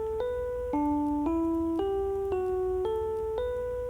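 A sequence of pure, sustained bell-like tones steps through changing pitches in a change-ringing pattern, one note roughly every half second, each note running straight into the next, clear and steady with no talking.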